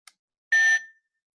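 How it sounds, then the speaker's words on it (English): A single short electronic beep from a low-tech voice output device, heard when its record button is held down, clear and steady, preceded by a faint click, then silence. "you're going to hold the button down and you're going to want to hear one beep"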